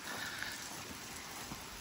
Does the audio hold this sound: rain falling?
yes